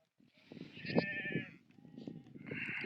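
Sheep bleat at moderate distance in the Ziddi mountains during a shearing day, two wavering calls with a pause between them, over a faint murmur of activity.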